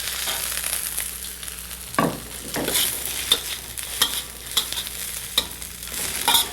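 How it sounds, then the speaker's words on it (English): Green vegetables and minced ginger being wok fried for an Asian-style dinner: steady sizzling broken by repeated scraping stir strokes of a utensil against the wok, close and fairly loud, no voices. "I'm going to wok fry my green vegetables now until they go nice and soft."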